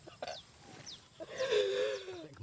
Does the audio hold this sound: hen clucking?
yes